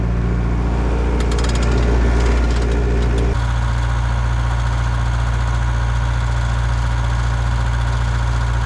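Generator plant engine cranking over and then idling steadily on a cold start in freezing conditions, a loud continuous low rumble with a rougher, knocking stretch early on before it settles into an even running drone.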